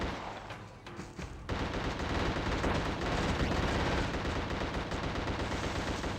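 Dense, sustained gunfire from The Suffering video game erupts after a quiet opening, with rapid bursts and volleys that carry on loud and unbroken to the end.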